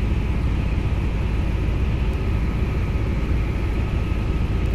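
Helicopter in Microsoft Flight Simulator X, a steady loud engine and rotor drone with broadband roar, unbroken and alone throughout.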